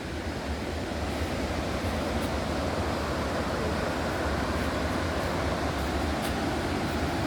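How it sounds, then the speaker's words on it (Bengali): A waterfall in a rainy-season forest near Ranchi, Jharkhand, roars in an unbroken wash of noise, steady and fairly loud throughout with no voices. "বর্ষাতে গাছগুলো খুব সুন্দরভাবে খেলছে, হাসছে, খেলছে, আর সামনে ঝর্ণাও।"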